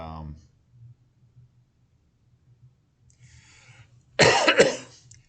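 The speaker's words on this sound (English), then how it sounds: "doing the coughing thing already, talking too much" A single harsh cough, close and loud, comes after a brief voice and a near-silent pause with faint breathing.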